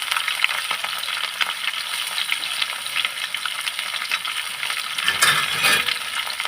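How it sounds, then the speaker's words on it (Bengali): Vegetable stalks and long beans frying in a pan for a Bengali shukto, a loud continuous hissing sizzle throughout with a burst of stirring and clattering near the end, no voices. "ডাটা সব একসাথে ভালো করে এটাকে ভেজে নেব বরবটিগুলো দিয়ে দেবো"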